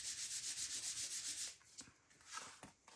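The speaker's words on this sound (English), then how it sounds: "Give that a good rub. You can even rub it from the inside as well." Paper layers on a stamped botanical card being rubbed firmly by hand, a close, soft swishing in rhythmic strokes that breaks into scattered scuffs and brushes, with no talking.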